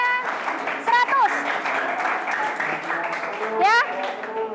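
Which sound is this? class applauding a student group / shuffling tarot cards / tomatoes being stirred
class applauding a student group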